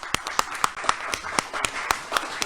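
Applause from an audience at a Ramzaan QuizWiz quiz award ceremony, with sharp claps that stand out at a steady rhythm against a softer crowd wash.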